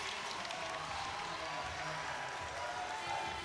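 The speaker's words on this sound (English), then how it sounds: "that gets the crowd on their feet" A basketball crowd at a championship game cheers and claps after a made three-point shot, a steady roar of voices and applause filling the gym, with game commentary audible underneath.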